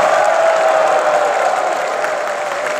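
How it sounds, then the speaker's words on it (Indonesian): Large hall audience at a party congress in Denpasar, Bali, clapping in a steady, dense wash throughout, loud and sustained with faint crowd noise and no clear talk. "Tepuk tangan untuk DPC se-Indonesia."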